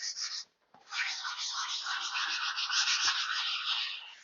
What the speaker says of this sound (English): I prefer doing it by hand sanding versus using a power tool